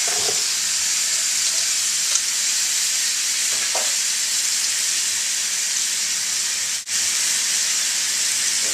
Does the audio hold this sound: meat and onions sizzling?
yes